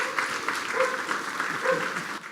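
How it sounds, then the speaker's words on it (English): Audience applause for five candidates at the close of an evening debate, a brief burst of dense clapping at moderate loudness with faint voices mixed in. "let's have a round of applause for all 5 candidates for being here tonight"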